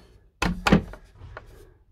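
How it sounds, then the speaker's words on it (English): A sliding door on a Carthago Malibu coupe campervan rolls and thuds shut, two quick heavy knocks followed by fainter rattles and clicks, close by with no talk. "And now, we've got this sliding door."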